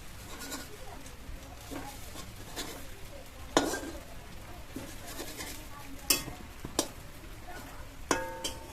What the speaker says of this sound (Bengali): আমি একবার কড়ার মধ্যে কেটে নিলাম